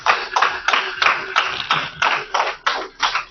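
A small group claps in quick rhythmic bursts, about ten sharp even beats spaced steadily across a few seconds, close and moderately loud in a classroom.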